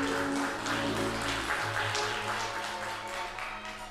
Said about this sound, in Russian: Я думаю, это заслуживает ваших аплодисментов.